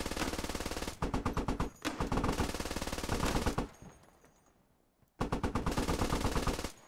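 A .50 cal machine gun firing in the video game Squad, long loud sustained bursts of rapid heavy shots, broken by a short pause and fading echo before another burst resumes.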